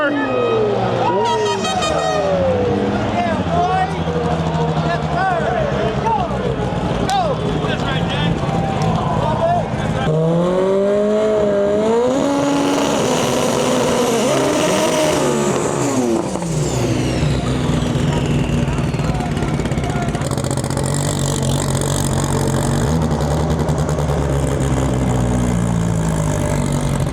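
A front-wheel-drive Honda Civic drag race car revs hard at the World Cup Finals drag strip, with engine pitch sweeping up and down and loud blasts as engines roar, while an announcer talks over it.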